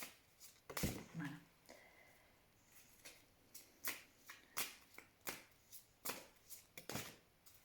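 Tarot cards being shuffled and drawn, a run of crisp close riffles and sharp slaps of individual cards coming in quick irregular bursts in an otherwise quiet room.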